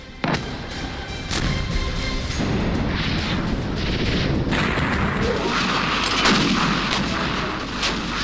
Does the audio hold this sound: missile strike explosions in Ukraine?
yes